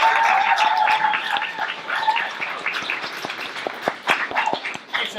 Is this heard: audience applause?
yes